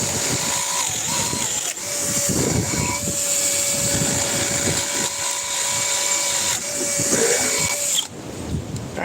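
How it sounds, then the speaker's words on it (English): Milwaukee M18 brushless drill driver runs with a steady motor whine that holds through most of the clip, then cuts off near the end, against a noisy indoor background. "And it's just the drill driver."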